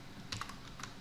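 A few quick, soft keystrokes on a computer keyboard typing the word for a website domain, faint and close, with no talking.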